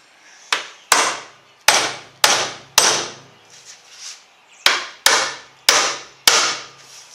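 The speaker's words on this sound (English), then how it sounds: "get our hammer." A hammer strikes wooden model railway benchwork in sharp, close, loud blows, several in quick succession with short pauses, each ringing briefly before the next hit, with no talking.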